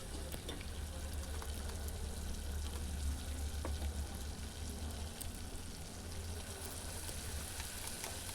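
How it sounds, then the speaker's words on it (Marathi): Ginger-garlic paste frying in hot oil, a soft steady sizzle heard faintly over a low background hum, with a few light ticks and taps along the way. "तेलावरती आलं लसणाची पेस्ट व्यवस्थित अशी भाजून घ्यायची"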